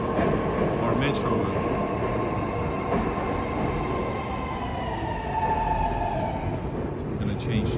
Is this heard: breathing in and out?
no